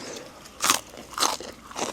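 Crunchy Thai pork crackling bitten and chewed up close, three sharp crisp crunches spaced about half a second apart with quieter chewing between.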